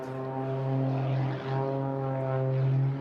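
A propeller aerobatic plane, a Pitts, maneuvers at the Eastbourne International Airshow with a loud, steady droning engine note that swells and fades slightly as it turns, and no voices are heard.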